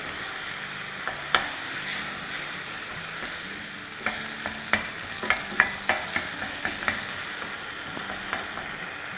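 A hot sauce mixture stirred in a hot pan, a busy sizzle and frying hiss under repeated scraping strokes and small clacks of the utensil, close and fairly loud, with no talking.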